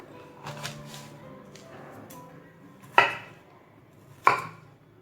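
Knife chopping banana blossom on a chopping board, a few soft cuts followed by two sharp, distinct knocks of the blade on the board, close and fairly quiet.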